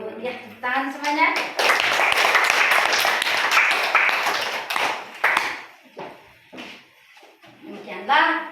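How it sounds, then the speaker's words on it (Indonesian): Classroom applause during a Quran recitation lesson: a teacher's voice gives way to several seconds of dense, steady clapping from a group of pupils, then tapering claps scattered between renewed talking. "Ya, tepuk tangan semuanya."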